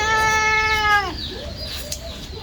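A cat gives one long, drawn-out, close meow with a strong tonal whine that bends downward and fades, followed by softer, fainter mewing sounds.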